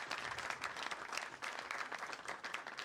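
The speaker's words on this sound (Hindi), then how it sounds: "मैं चाहूंगा कि भरपूर तालियां उन बच्चों के लिए हो जाए जो हमारे पास इस प्रोग्राम में जुड़े हैं।" An audience at an Eid special program applauds for the children, dense continuous clapping from a crowd, steady and fairly close for the whole stretch.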